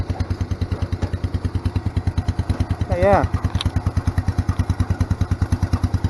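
A small 10-horsepower Kohler K241 single-cylinder engine idles close by with a steady, fast putt-putt rhythm, and someone speaks briefly over it.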